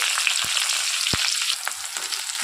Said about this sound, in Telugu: కొత్తిమీర వేసి మనం ఇవి ఫ్రై చేయాలండి కొంచెం ఫ్రై చేసుకోవాలి